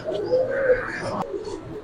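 Bangla gola pigeons cooing softly at close range, a short low throaty coo with a faint click partway through.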